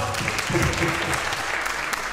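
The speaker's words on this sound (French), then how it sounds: "on les applaudit très fort" Audience applause at the opening of a concert evening for the launch of Young Hadassah France, a dense, steady wash of clapping from a large room that carries on loudly throughout.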